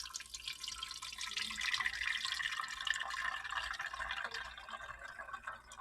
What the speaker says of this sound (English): You want to pour the water in here first, because then it'll go through all of the tea, make all of the tea wet